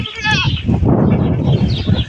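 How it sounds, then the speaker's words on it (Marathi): A pregnant goat kept for sale on a farm lets out one brief, close bleat at the outset, then a voice talks over the rest. "आता चौथी शेळी तुम्हाला मित्रांनो दाखवतो मी"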